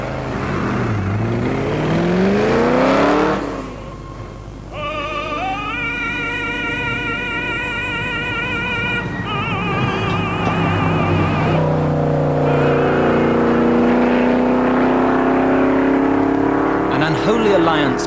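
A De Tomaso Pantera supercar with American engine power accelerates hard through rising gears and sweeps past, loud engine notes climbing and falling, with someone talking over it in places.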